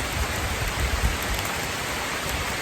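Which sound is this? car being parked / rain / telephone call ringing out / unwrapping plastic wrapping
rain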